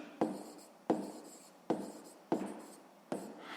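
A pen scratches out the written explanation for a sixth-grade maths problem on paper, five distinct strokes at a steady rhythm, each a sharp scrape that fades, close and quiet with no talk.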